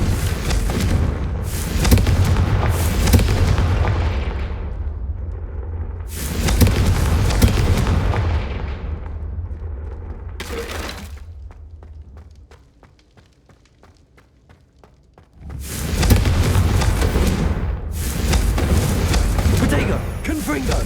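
Confringo fire-blast spells exploding in combat in the game Hogwarts Legacy, a run of loud, dense booming bursts broken by a quieter lull, then more blasts.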